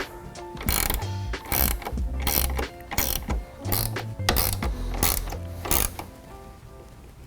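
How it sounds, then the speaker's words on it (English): A hand ratchet tightens light bar mounting brackets on a 2024 Ford Ranger Raptor, giving rapid repeated clicking bursts in a steady back-and-forth rhythm, close and distinct. "now we can tighten our brackets in place, and then we'll come tighten the sides after we adjust the angle"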